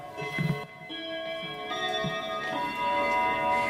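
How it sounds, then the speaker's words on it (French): Unusual mechanical clock machines tick and chime indoors, soft repeated ticking under a sustained ringing bell tone that swells toward the end, with no talking. "D'ailleurs on entend sonner. Il y a des horloges assez extraordinaires, des sortes de machines horloges."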